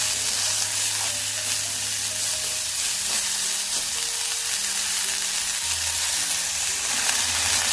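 Five bitter gourds fry in a pan over a medium gas flame, giving a steady, dense sizzle throughout, with occasional soft scrapes as they are stirred.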